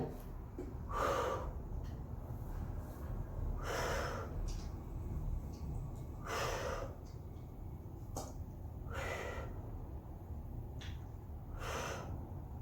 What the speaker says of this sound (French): Je souffle et j'inspire.